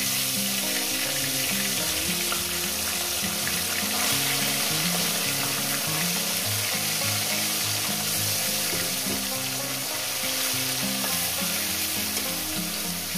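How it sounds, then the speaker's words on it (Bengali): Small fish fry loudly in hot oil, a dense, close, unbroken sizzle and crackle that holds at full strength throughout with no voices. "মাছগুলো দিয়ে দিলাম, সুন্দর করে একটু সাজিয়ে মাছগুলো আমি লাল লাল করে ভেজে নেব"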